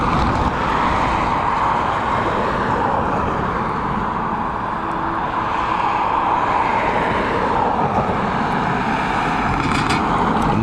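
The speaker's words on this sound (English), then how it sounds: "This Boeing 787-8 Series Dreamliner getting ready to begin its journey over to Chicago." An American Airlines Boeing 787-8 Dreamliner bound for Chicago sits on the runway at Dublin Airport, its engines making a loud, continuous broadband roar that holds steady from start to finish, with no voices heard.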